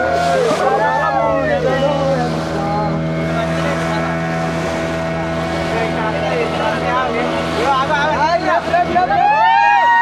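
A motorboat out on the sea off Pondicherry, its engine a steady loud drone throughout while several people talk and call out over it.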